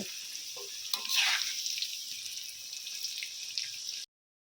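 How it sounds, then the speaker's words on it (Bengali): Potato pieces frying in hot oil for a thin Bengali mutton curry with papaya, a steady bright sizzle with crackle and a louder burst near one second, continuous and close with no talk, then cutting off. "আলুগুলোকেও কিন্তু আমি খুব ভালো করে লাল লাল করে ভেজে নেব"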